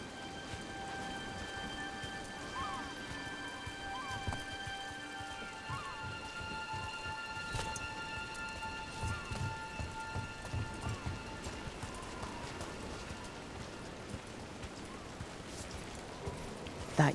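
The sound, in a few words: rain falling in video game Dragon Age: The Veilguard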